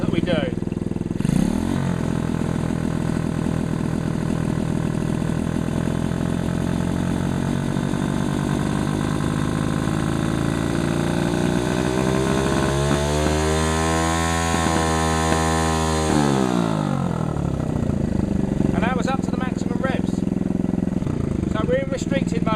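A Monkey pit bike engine runs with an adjustable CDI, idling, then revving up in a rising whine that holds high before settling back down, loud and continuous throughout.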